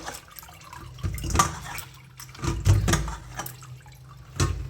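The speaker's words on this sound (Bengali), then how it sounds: "লাউ পাতার একটা কিন্তু গ্যাস থাকে, এরকম করে সেদ্ধ করে জলটা ফেলে নেবে।" Hot water poured off boiled bottle gourd leaves in a kitchen: splashing, gurgling gushes come in several uneven surges, close by and fairly quiet.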